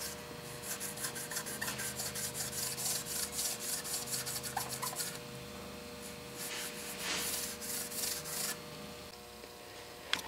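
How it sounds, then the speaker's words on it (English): Abrasive pad scrubbing metal parts of a South Bend shaper with brake cleaner, a steady rasping rub with rapid strokes, a pause, then a second burst of scrubbing, close and fairly quiet. "This brake cleaner along with a Scotch-Brite works great."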